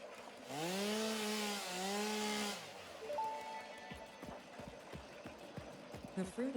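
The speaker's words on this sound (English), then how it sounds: "It's time to take out the chainsaw." A chainsaw revs in the video game Satisfactory, a loud buzzing whine that swells and dips for about two seconds before cutting out. Scattered thumps, clicks and crunches of cutting and debris follow, along with a brief tone.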